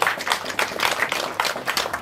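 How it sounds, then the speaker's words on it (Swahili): A short burst of applause at a celebration honouring a grandmother: uneven clapping from a small crowd, fairly close and lively, with no speech. "Situwapatie makofi."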